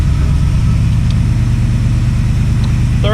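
An International Scout, freshly carb-rebuilt and driven for the first time in decades, pulls along steadily in third gear with a loud, close, continuous engine drone.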